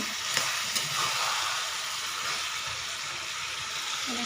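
Chicken frying in a pan while being stirred, a constant bright sizzle up close with a couple of light scraping knocks from the stirring, no voices.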